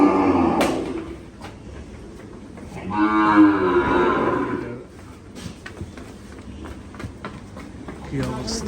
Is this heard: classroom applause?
no